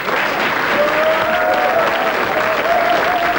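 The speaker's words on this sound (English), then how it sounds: "Give her a clap." A studio audience claps steadily for a few seconds, an even, full-room wash of applause with no break.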